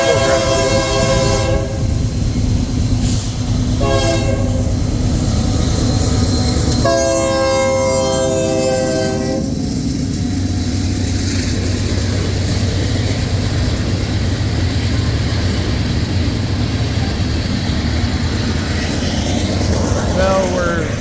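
A northbound freight train rolls past near Crescent, Iowa, its horn sounding in several long blasts over a continuous rumble of wheels and cars that carries on steadily after the horn stops.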